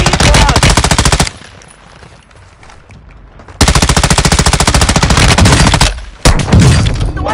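Sustained automatic machine gun fire in Call of Duty, loud and close, rattling in long rapid bursts with a pause of a couple of seconds in the middle and a brief break near the end.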